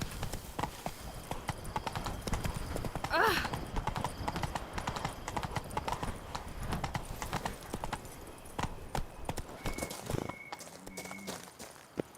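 Roach, a horse in The Witcher 3: Wild Hunt, trots with steady, close clip-clop hoofbeats throughout, with a brief whinny-like cry near the start and ambient game sound underneath.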